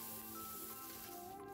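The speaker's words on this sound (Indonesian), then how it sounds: "Saya goreng terlebih dahulu ikan terinya." Anchovies (ikan teri) frying in a pan of oil, with a steady, quiet sizzle that holds throughout and no talking.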